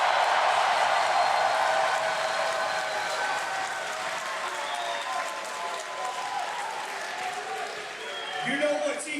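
A crowd claps and cheers for a wrestler at a live event, a dense, continuous wash of applause that fades slightly and swells again near the end.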